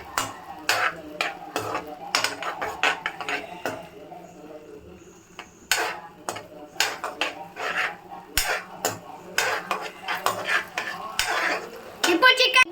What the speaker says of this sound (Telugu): ఇప్పటిదాకా కార్న్‌ఫ్లోర్ సోయా సాస్ కలుపుకున్నది దీంట్లో వేసేసుకుందాం. ఇప్పుడు కలుపుకుందాం.